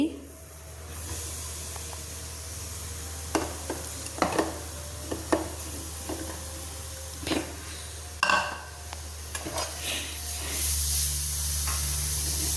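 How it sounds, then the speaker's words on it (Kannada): Grated coconut mixture with jaggery and mango pulp fries in a hot pan, a steady low sizzle running throughout, broken by repeated louder scraping stirs of a spoon. "ಇದೆಲ್ಲ ಚೆನ್ನಾಗಿ ಸ್ವಲ್ಪ ಉರಿಬೇಕು, ಹಸಿ ಸ್ಮೆಲ್ ಹೋಗೋ ತನಕ"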